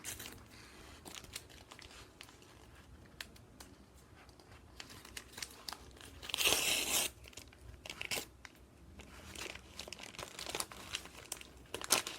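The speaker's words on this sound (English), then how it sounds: "By carefully peeling top layer back." The outer wrapper of a sterile glove package is peeled open with soft crinkling and scattered clicks, then a brief louder tearing rustle midway, followed by further quiet crackles.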